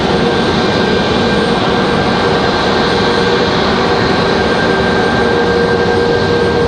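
A Frontier Airlines jet taxis at Raleigh-Durham International Airport, its engines giving a loud, steady broadband roar with a thin high whine running continuously throughout.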